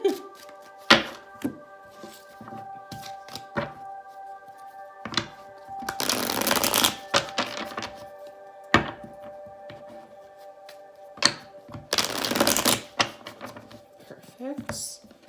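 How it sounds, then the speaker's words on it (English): Tarot card decks being shuffled by hand, with sharp riffling bursts and soft taps and thumps of cards settling, close and intermittent over a low steady hum. "I want to give each deck a nice little shuffle"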